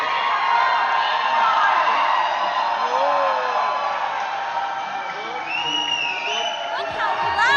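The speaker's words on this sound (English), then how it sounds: "Look how loud the crowd is cheering for Global Esports!" A large crowd cheers and whoops at a Convergence 2023 esports event, a dense, loud, sustained roar of voices with occasional higher shouts and whistles rising above it.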